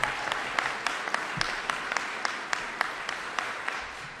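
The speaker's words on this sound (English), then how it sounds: "Let's give Secretary Buttigieg a round of applause." A crowd at an infrastructure funding announcement with Governor Hochul and New York lawmakers gives Secretary Buttigieg a round of applause, a steady wash of clapping with a few sharper nearby claps standing out.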